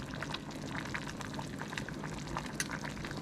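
Noodles for sapasui boil in a pot of water, a steady close bubbling wash that fills the short stretch without pause.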